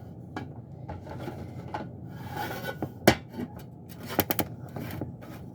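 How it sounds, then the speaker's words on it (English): A spoon scrapes and rubs around a pot of boiled maple syrup, close up, with a sharper knock or clack now and then and no talking. "I boiled the syrup and I'm stirring it"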